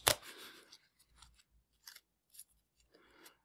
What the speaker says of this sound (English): I'll just give them a couple shuffles